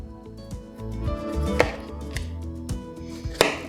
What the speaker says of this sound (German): Jetzt werden die klein geschnitten